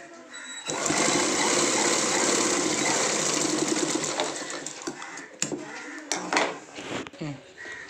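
A sewing machine runs a continuous fast stitching burst while sewing piping onto trousers, then stops and is followed by a few scattered clicks and handling knocks.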